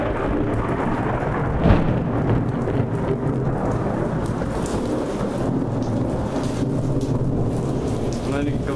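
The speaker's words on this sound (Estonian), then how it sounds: "On ikka väga intensiivne äike." Steady heavy rain pours down outdoors in Jõgeva, Estonia, with a sharp close thunderclap early on that rolls into low rumbling beneath the constant hiss of the downpour.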